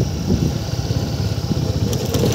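A motorcycle rides along a mountain road in Mustang, its engine a steady low drone under rushing wind noise, close and continuous.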